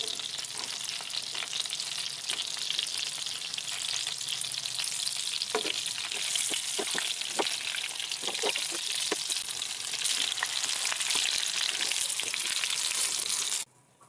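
Chicken boti pieces fry steadily in hot oil for a malai boti roll, a dense continuous sizzle with occasional crackles and utensil clicks, loud and close, stopping abruptly at the end.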